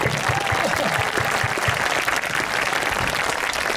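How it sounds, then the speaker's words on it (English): An audience at a school band's spring concert claps steadily and densely, a loud, even wash of applause that holds for the whole stretch, with faint voices mixed in. "Another huge round of applause to Mr. Gazy, wherever he is"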